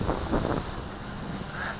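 Steady outdoor wind buffets the microphone with a low, rushing roar while a WLToys V303 GPS drone flies in gusty conditions. A few stronger gusts swell near the start, and no voices are heard.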